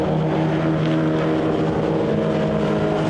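VW Golf Cup race cars at Silverstone GP circuit approaching the hairpin, engines droning steadily and loud with a continuous buzzing tone throughout, no voices.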